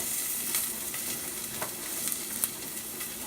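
Onion fries in a hot pan for pelmeni soup, giving a dense, continuous sizzle with light stirring clicks and small pops, close and steady with no talking.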